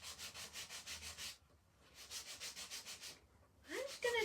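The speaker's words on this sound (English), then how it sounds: "I'm gonna just sand this to kind of try to get rid of all those zigzags" Sandpaper rubbed back and forth across a small wooden kit piece in two bursts of steady, even strokes, close and fairly loud, with a brief pause between them and a faint scrape at the end.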